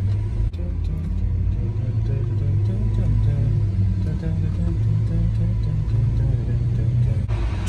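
Second-hand Lamborghini supercar being driven: a deep, steady engine rumble close by, heard from inside the car under continuous conversation between two men.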